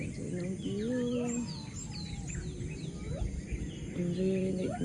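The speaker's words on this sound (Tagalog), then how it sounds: "Enjoy rinig mong mga ibon." Birds chirp and sing outdoors on a morning at a farm camp, several whistled calls overlapping against a steady rustling background, fairly close and continuous throughout.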